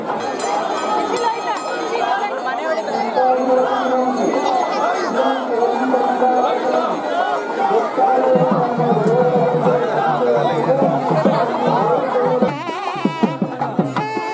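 Thousands of devotees at the Sri Lakshmi Narasimha Swamy Brahma chariot festival in Sugganahalli, Magadi, raise a dense continuous roar of chanting and shouting voices, loud and crowded throughout with a few sharp claps near the end.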